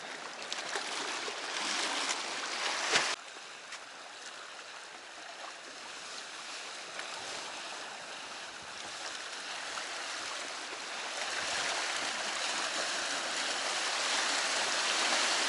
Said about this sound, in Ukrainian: тут волна ще сильніша